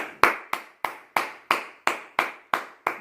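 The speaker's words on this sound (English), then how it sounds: "Please give him a round of applause." A lone person claps for Ted Carney, a bowler honoured at an event: nine sharp, evenly spaced hand claps, close and distinct with short decays, no other audience joining and no voices.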